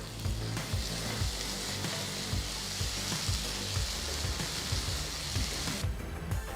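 Chopped tomato with chili and coriander powder sautés in a hot pan, a dense, continuous sizzle broken by regular soft scraping knocks of stirring, close and fairly loud.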